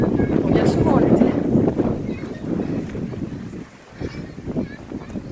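Gusty wind buffets the microphone in low rumbling bursts while a person talks nearby outdoors.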